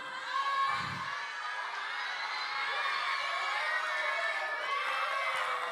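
Children at a winter church camp in Honam clapping and cheering together, a steady dense wash of applause with scattered shrill shouts that holds loud and even throughout, with no speech over it.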